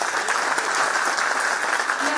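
Steady applause from an audience at a Maharashtra state electricity distribution company anniversary function, a dense continuous clatter of clapping sustained throughout without pause.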